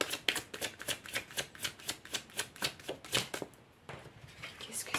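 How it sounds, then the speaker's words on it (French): Tarot cards are shuffled in rapid, rhythmic riffling bursts close to the microphone, quiet and regular, then a pause and a few softer card sounds as one is drawn. "Je vais essayer de tirer la dernière carte."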